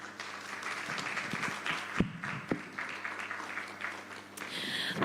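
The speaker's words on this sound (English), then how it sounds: "Let's give her another round of applause." Audience at an education conference in Dubai applauding, a steady wash of clapping from a crowd, fairly distant and sustained throughout.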